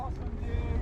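A two-stroke outboard on a 40-year-old project boat idles on the water, a low steady burbling close by with wind buffeting the microphone.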